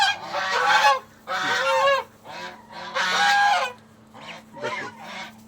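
Domestic geese honk loudly and close by, in four or five harsh, drawn-out bursts separated by short pauses, over a steady low hum.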